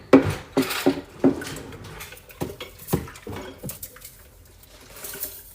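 Dishes are washed by hand: plates, pots and cutlery clink and knock in sharp irregular bursts close by, with light watery splashing between the impacts and no talking.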